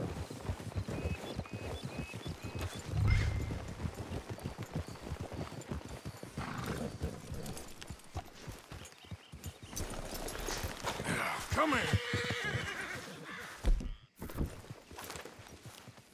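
Horse hooves clip-clop steadily over a busy background in Red Dead Redemption 2, with a brief whinny partway through and no talking.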